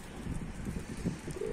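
Pigeons coo softly at a coop in Bursa in short, low, burbling calls against a breezy outdoor background.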